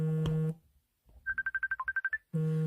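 A phone ringing close by: a loud, harmonic ringtone blares in two bursts, with a rapid run of short, evenly spaced electronic beeps sounding between them.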